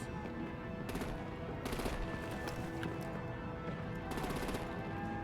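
Video game gunfire in Batman: The Enemy Within, repeated bursts of automatic fire over a dense, continuous action-scene soundtrack, with several louder volleys standing out.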